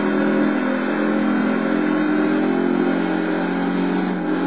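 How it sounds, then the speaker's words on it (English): The engine of an off-road race truck in the racing game BAJA Edge of Control runs loud and rough without pause, sputtering and starved for air, with no voices. "the engine is suffocating"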